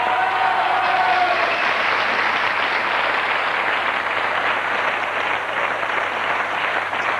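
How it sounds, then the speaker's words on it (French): Studio audience applause on a French TV talk show about cinema, a dense steady wash of clapping filling the whole stretch, loud and close with no break. "Vous allez pouvoir applaudir encore Philippe Winter, Bernard Tapie et même Philippe Gildas"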